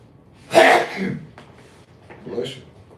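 A person sneezes once, loud and close, followed by a softer breathy sound, with no talk over it.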